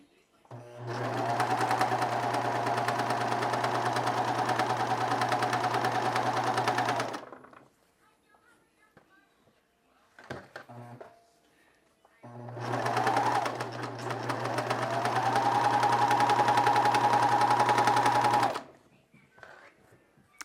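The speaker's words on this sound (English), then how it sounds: "my serger bounces all over the place, so just ignore that" A serger sewing machine stitches neck binding on pajamas in two loud, steady bursts, the second after a short pause with a brief rattle between them.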